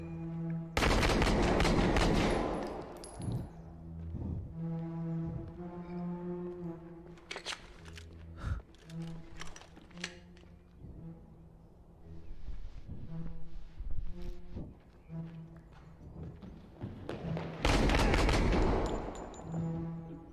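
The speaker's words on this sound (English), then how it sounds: "Shots fired! Shots fired!" Bursts of gunfire from Modern Warfare 2, with heavy loud volleys at the start and end and scattered shots and rattling between, layered over game music and effects.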